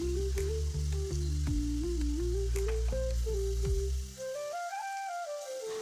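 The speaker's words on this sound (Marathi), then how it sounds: "वाटण तयार झालं तसं लगेच कांदा आणि कढीपत्त्याची फोडणी दिली." Onion and curry leaves sizzle steadily in hot oil for a tadka, a loud continuous frying hiss with a few stirring clinks, then the sizzle drops back near the end while a faint whistle-like tone rises.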